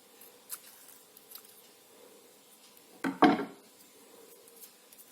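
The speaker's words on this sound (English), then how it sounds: "So I'll take a bit of the green tape, cut it in half again" A single quick snip of scissors cutting green floral tape in half while making crepe paper flowers, a short crisp cut near the mic in an otherwise quiet room.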